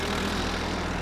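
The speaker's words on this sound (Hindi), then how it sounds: "ट्रैक्टर रोक।" A tractor engine runs with a steady, loud low throb for the whole short stretch, with no pauses or changes in pace.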